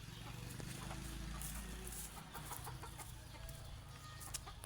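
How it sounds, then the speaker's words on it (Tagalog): Backyard chickens cluck and chatter faintly as an elderly woman scatters feed for them, a soft, continuous flock murmur with occasional sharper calls and light background noise. "si Lola nagpapakain na po ng manok"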